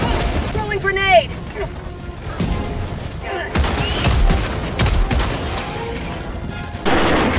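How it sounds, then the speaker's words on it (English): Grenade explosions in the video game Helldivers 2: several booming blasts and crashes over loud battle noise, with someone shouting throughout. "I got grenades, bitch. Throwing grenade."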